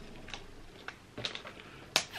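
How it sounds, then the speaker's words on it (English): A handful of sharp hand claps land at uneven, offbeat intervals, the last one loudest, over a faint background. "Those claps are totally offbeat."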